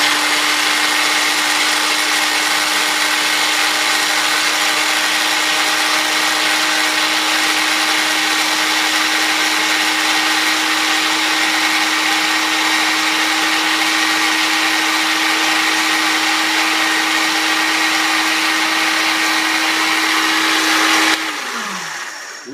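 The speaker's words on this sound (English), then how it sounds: "We're going to place our blender back on, put the top back on, and hit liquefy for another 15 seconds." A blender running on its liquefy setting grinds coffee beans in a loud, steady whir that holds for about twenty seconds before the motor cuts off and winds down.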